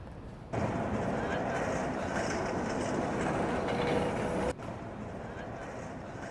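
A tram in Lviv clattering along its rails, a steady rumbling roll that swells in at once, holds loud, then drops off sharply near the end with quieter street noise remaining.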